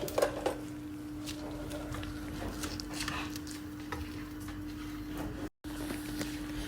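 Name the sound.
pistachios and almonds dry-roasted and stirred in a pan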